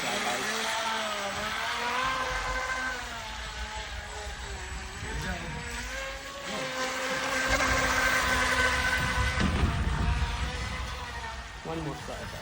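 A small RC F1 boat with an aftermarket prop, running on 3S, whines past in flybys with a high buzzing motor that rises and falls in pitch, heard with voices talking.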